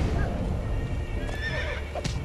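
A horse in Assassin's Creed II gives a loud whinny with hooves clip-clopping beneath it, all set against steady game background sound.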